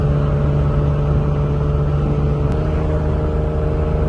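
Toyota Cressida car driving along, a steady engine drone and road hum heard from inside the cabin, even and continuous without talk.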